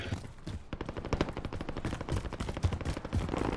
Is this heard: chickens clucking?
no